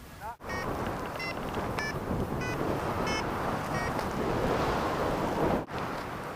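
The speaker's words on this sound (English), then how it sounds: "it's a bit rough here in the valley wind" Rough wind buffets the microphone in an alpine valley, a steady loud roaring rush with brief dropouts, overlaid by faint intermittent tonal chirps.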